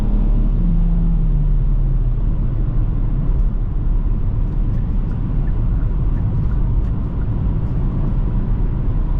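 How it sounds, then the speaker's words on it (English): Interior of a 2024 Kia Forte LXS sedan under acceleration, a steady loud engine and road rumble with a low tone rising gradually, no talking over it. "Gonna give it some gas here."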